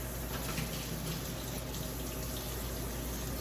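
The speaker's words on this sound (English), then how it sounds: "Rinse my hands." A running kitchen tap pours water over hands being rinsed, a steady close rushing splash that holds at an even level throughout.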